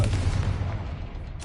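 A Confringo blasting spell explodes in Hogwarts Legacy, a loud, close booming rumble that roars steadily for the whole moment, with a fresh burst of blast noise flaring right at the end.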